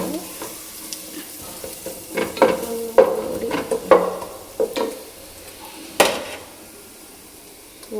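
Ginger garlic paste frying in masala is stirred in a pan, giving a steady sizzle broken by a series of scraping spoon strokes, with a sharper clatter near the end; nobody speaks.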